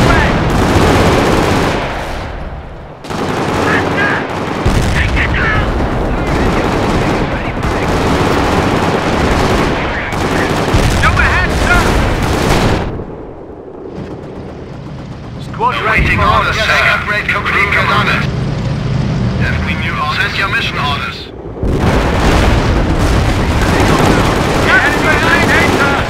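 Heavy combat in the Company of Heroes video game: a Panzerschreck launch amid loud machine-gun bursts and rifle fire, coming in dense blasts broken by short lulls, with soldiers shouting over the fighting.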